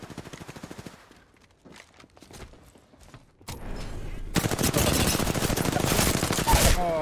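Gunfire in Apex Legends from the character Mirage's match: rapid bursts of shots at first, a quieter lull, then a dense, loud sustained volley of automatic fire with clattering impacts near the end.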